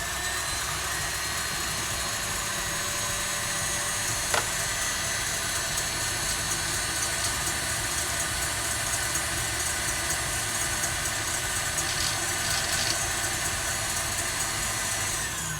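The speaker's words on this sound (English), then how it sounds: "So putting the egg whites into the bowl, we're going to bring it to a whisk." Electric whisk beating egg whites in a bowl for a strawberry roulade, a steady loud motor whir running without pause throughout, with no talking.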